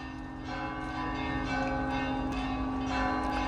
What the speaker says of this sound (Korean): 종소리가 굉장히 현장감 있네요.